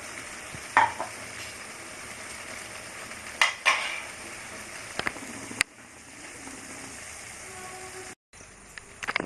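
Prawn balls coated in flour are laid into Manchurian sauce in a pan over a low gas flame, giving soft sizzling with a few sharp clinks of utensils against the pan, close and otherwise quiet.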